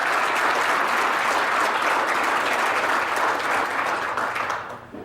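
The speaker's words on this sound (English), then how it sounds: "Let's thank them and give them a round of applause." A round of applause at a sports hall of fame ceremony: loud, dense clapping from a sizable crowd, steady for about four seconds before thinning out at the end.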